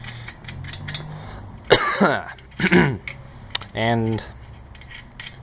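Nuts are ratcheted onto the studs of a hydraulic press during a rear-axle bearing job on a 1987 Toyota 4Runner, making several loud, close bursts of rapid clicking separated by short pauses, with a brief voice in between.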